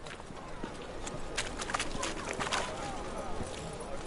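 Roach the horse gallops in The Witcher 3, with a quick rhythmic patter of hooves at moderate distance and a voice speaking over part of it.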